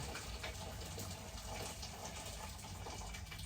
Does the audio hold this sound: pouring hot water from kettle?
yes